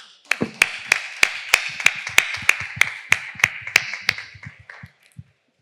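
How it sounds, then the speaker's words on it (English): In a hotel ballroom, about a dozen sharp, evenly spaced claps ring out in a slow, steady rhythm, crisp and close, before stopping abruptly. "Can I ask you a round of applause for all the wives and the ladies here in the ballroom?"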